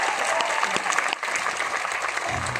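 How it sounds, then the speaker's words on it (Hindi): Brief burst of enthusiastic audience applause at a motivational talk in Himmatnagar, Gujarat, a dense wash of clapping from a crowd lasting a couple of seconds, fairly quiet overall. "तो एक बार जोरदार ताली आपके लिए होनी चाहिए।"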